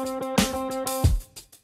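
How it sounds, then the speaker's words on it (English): Guitar processed through an Archetype Cory Wong multiprocessor plugin with a little overdrive and reverb, giving a few chopped chordal stabs with a low thump, heard alone and ending in a brief gap. "I added an archetype Corey Wong, which is basically just a guitar multiprocessor"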